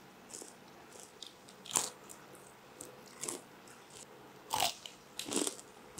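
Fried chicken dipped in homemade Raising Cane's-style sauce is bitten several times, each bite a crisp crunch followed by quieter close-up chewing, with pauses between.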